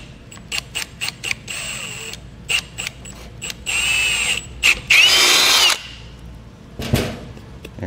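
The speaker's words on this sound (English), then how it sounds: "We're going to drill it, try to get it right here," A handheld power drill bores a 25/64-inch hole in a 2020 Ford Explorer during a brake controller installation, with loud whining bursts that start and stop in short pulls and then one longer, strained run.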